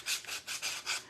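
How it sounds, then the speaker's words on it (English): Close, quiet sanding strokes, four rhythmic back-and-forth rasps of abrasive on the edge of a sign. "I'm sanding the edges of this"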